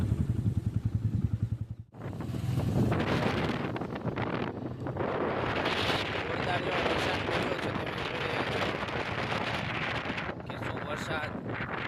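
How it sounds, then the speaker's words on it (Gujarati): Heavy monsoon rain and gusting wind roar through a waterlogged housing society in Dhandhuka, loud and continuous after a short break, with a person speaking over the downpour. "જોરદાર વરસાદ છે અને હજુ ચાલુ જ છે વરસાદ"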